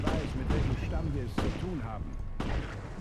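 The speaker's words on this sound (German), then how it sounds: "Muss ich da jetzt so lange drauf rumschießen, bis das Ding endlich platt ist?" Gunfire in the Resident Evil Revelations video game booms in several heavy shots spaced about a second apart, loud and up close, with game voices talking between and over them.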